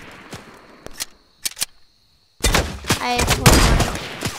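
Rapid bursts of gunfire in the video game Fortnite, a few scattered shots, a short pause, then a loud sustained barrage of shots and impacts, with a brief spoken remark.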